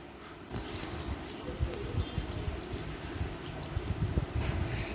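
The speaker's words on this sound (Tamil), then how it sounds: "தண்ணி ஊத்திக்கோங்க. கழுவ போறோம் இப்போ நம்ம எறாவை." Water splashes and sloshes steadily, like pouring and washing in a bowl, with soft clattering underneath and no voices.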